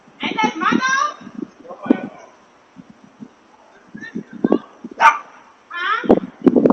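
A French bulldog at a home doorbell camera barks and whimpers in short bursts amid frequent nearby talking.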